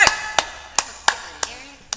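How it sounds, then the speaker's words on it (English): Six sharp, isolated claps ring out in a slow, slightly uneven rhythm, each followed by a short decay, forming sparse applause in a recorded comedy sketch. "Everyone give him applause"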